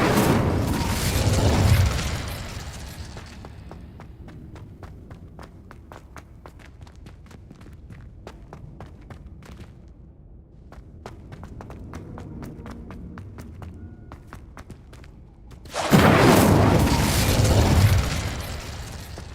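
Incendio fire spell cast in the video game Hogwarts Legacy: a loud, broad whooshing burst opens, sparse faint ticks and clicks follow, then a second loud fiery burst erupts near the end.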